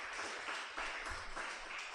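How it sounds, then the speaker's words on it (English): Soft, distant applause from a seated audience, a steady wash of many hands clapping at low level with no voices over it. "or we all clap for you."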